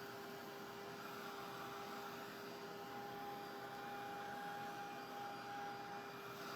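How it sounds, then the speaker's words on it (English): Heat tool blowing steadily over a glossy resin-like finish on a recycled craft piece, a continuous close airy whoosh with a fixed motor whine, held at even loudness with no talk. "Just take another pass or two with the heat tool."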